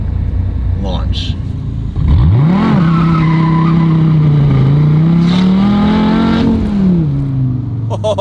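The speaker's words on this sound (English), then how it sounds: "That was launch control, you guys, in a manual Viper." A stock Dodge Viper with a manual gearbox does a launch control start, with a full-throttle roar and tyre squeal. The engine note rises sharply and holds loud for several seconds before easing off.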